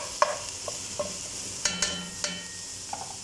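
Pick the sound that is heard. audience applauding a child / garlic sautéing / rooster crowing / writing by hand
garlic sautéing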